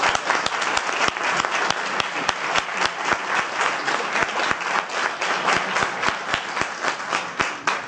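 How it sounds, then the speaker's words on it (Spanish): A lecture audience gives a speaker a loud, sustained round of applause, dense clapping with crisp individual claps standing out steadily throughout. "quiero pedir un fortísimo aplauso para Ana María Vázquez Oens"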